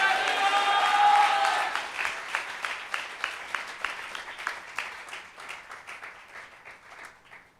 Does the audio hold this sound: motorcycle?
no